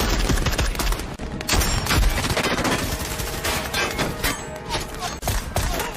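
Sustained automatic gunfire and bursts of shots in a combat video game, loud and dense throughout with rapid overlapping rattles and thumps, no voices heard.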